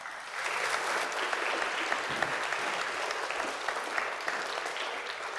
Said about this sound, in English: Round of applause for Billy.